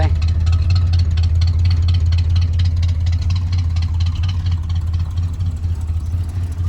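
A 1966 Pontiac engine that sat unused since 1992 idles steadily with a deep, even rumble and a faint repetitive tick running through it, close and continuous.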